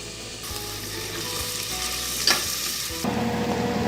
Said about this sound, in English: We are going to fry these carrots on medium heat.